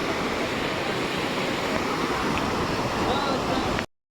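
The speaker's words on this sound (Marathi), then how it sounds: "बघू शकता तुम्ही वॉटरफॉल किती सुंदर" Tarepada waterfall roars as a dense, steady wash of falling water, loud and close, then cuts off abruptly near the end.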